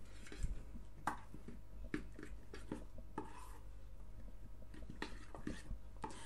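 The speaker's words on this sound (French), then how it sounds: "Et on va mélanger ça." A spoon stirs a cajun sauce made with thick crème fraîche in a dish, giving faint, irregular scraping and clinking taps against the bowl, close but quiet, with no talking.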